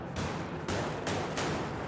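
Cannon fired from a Korean shore battery to drive back a Western ship entering the Han River in the 19th century, heard as three loud, sustained booming blasts in quick succession with no talk.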